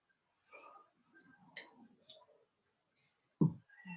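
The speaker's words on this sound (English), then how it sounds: "I'm going to try my new scissors, just in case you need to trim it a bit more." New scissors snip macramé cord in a few short, crisp clicks and cuts, spaced irregularly and close by, heard in a quiet room without talking.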